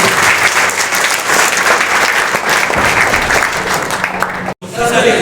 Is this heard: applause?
yes